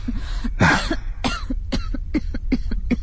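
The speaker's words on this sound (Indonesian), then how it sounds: "terdengar lagi suara batuk itu." Repeated harsh coughing in a horror story, a burst of several rough coughs followed by a steady string of shorter, throaty hacks, close and alone with no talking.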